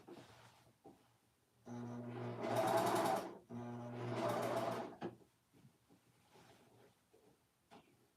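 A serger stitches around the pocket of a handmade dress in two loud, fast, buzzing runs of about one and a half seconds each, separated by a brief pause, with quieter handling sounds before and after.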